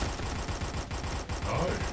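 Rapid, dense shotgun fire in the video game Gods of Boom, a loud continuous barrage of overlapping blasts with no pauses across the whole stretch.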